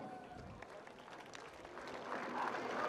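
A crowd applauds outdoors at a mountain bike race award ceremony in the central square of Selva di Val Gardena, faint and distant, swelling slightly toward the end with some voices mixed in.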